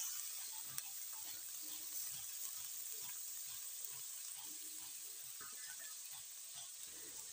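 Chopped onion frying in oil in a kadai gives a soft, steady sizzle with faint bubbling and a few light scrapes, low and continuous with no talk.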